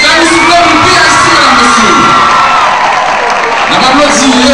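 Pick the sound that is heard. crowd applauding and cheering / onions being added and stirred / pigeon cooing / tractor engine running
crowd applauding and cheering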